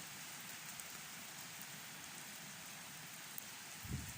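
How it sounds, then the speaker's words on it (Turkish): Steady rain falls outdoors in cold winter weather, a soft even hiss of drops on surfaces with a faint thump near the end. "Bakın nasıl yağmur yağıyor."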